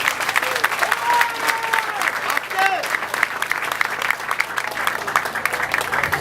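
A crowd at an opening political rally applauds loudly and continuously, with dense clapping and some cheering voices mixed in.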